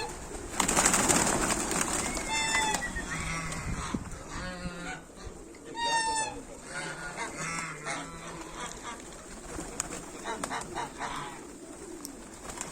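A flock of about 220 pigeons coo and burble continuously at close range as they are flown, with occasional wing flutters and a busy, rustling background.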